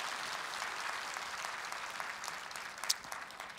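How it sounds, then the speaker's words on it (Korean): A church congregation at an early-morning special prayer service applauding, a steady dense wash of many hands clapping, fairly distant and soft throughout. "우리 살아계신 하나님 앞에 영광의 박수 올려드리겠습니다"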